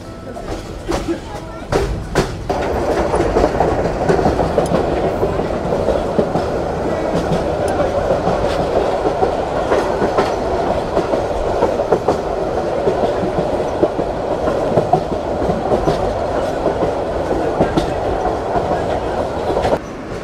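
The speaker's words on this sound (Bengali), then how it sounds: "আমাদের ট্রেন এই মুহূর্তে পার করছে টঙ্গী জংশন" Mohanganj Express passenger train running on broad-gauge rails near Tongi Junction, a loud continuous rumble with rhythmic wheel clatter from inside the moving train, a few sharp knocks early on.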